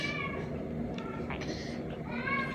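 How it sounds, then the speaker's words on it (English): Pet cats at home meowing, with a few drawn-out, wavering cries rising and falling close by over a low household background. "Look at our kitties."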